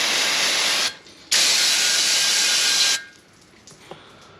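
Brake cleaner sprayed from an aerosol can onto a shop towel in two loud hissing bursts, a short one then a longer one, followed by quiet with a couple of faint clicks.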